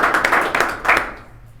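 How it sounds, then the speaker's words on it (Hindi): Applause from a room of students, honoring a student who placed first in the police sub-inspector test, a quick burst of loud, dense hand clapping that fades out within a second or two. "इनके लिए एक जोरदार ताली।"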